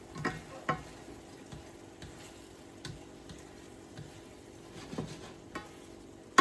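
Food being stirred and mixed in a pan over a burner, soft scattered scrapes and light clinks against a faint, quiet simmer, with no one speaking.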